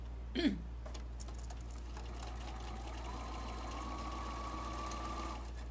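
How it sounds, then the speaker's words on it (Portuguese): A sewing machine stitches fabric pieces for a Sawtooth Star quilt block, a soft steady motor whir that starts after a brief knock and runs on quietly, with no speech. "Eu vou costurar todos do lado esquerdo."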